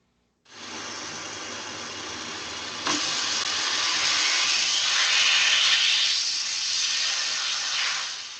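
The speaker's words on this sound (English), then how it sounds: "A vacuum cleaner, as you said." A vacuum cleaner switches on and runs steadily, a loud continuous whooshing hiss that swells slightly partway through, with no voices over it.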